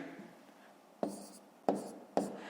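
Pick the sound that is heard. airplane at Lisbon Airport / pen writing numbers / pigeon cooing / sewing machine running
pen writing numbers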